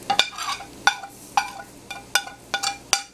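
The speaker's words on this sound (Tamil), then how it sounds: "எல்லாத்தையும் போட்டு நல்லா மிக்ஸ் பண்ணுங்கள்" Tomatoes are stirred with turmeric, chili powder, salt and coriander powder in a pan of fried onion and garlic, with a sharp spoon scrape and tap about every half second over a steady low sizzle, close up, with no voices.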